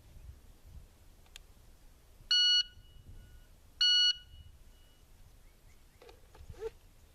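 A shot timer sounds two loud, steady electronic beeps about a second and a half apart, each lasting roughly a third of a second, against quiet room noise with a few faint clicks.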